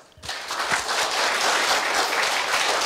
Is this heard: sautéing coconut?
no